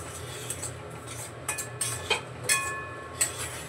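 A spoon scrapes and clinks against a pan while semolina dry-roasts, giving soft irregular metallic taps every half second or so over a low steady hum, close and fairly quiet with no talking.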